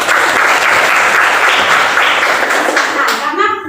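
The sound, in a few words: classroom applause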